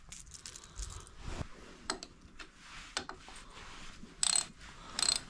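A ratchet tightens the six washered bolts on a motorcycle's cam chain tensioner cover, giving close, irregular clicking bursts with metallic ticks and brief pauses between strokes.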